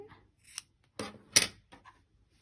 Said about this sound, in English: Then you'll trim your yarn,